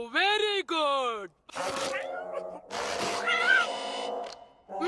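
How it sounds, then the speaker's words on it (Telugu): A cartoon cat from the animated series Kid vs Kat, Telugu dub, lets out a long wavering meow, followed by characters talking. "నా మిస్టర్ క్యాట్ ని మీకు పరిచయం చేయమంటారా?"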